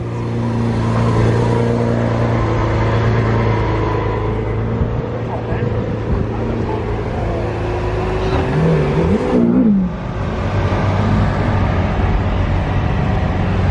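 A Lamborghini in a convoy through Monaco pulls away and accelerates, its engine a loud, steady drone with a rising rev near the end, heard from close by with faint voices underneath.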